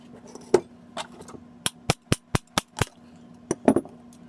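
Quick hard hammer taps on the pump of a PGP paintball pistol, a loose few strikes, then a tight run of six evenly spaced close knocks, then another scattered cluster, with a faint hum behind.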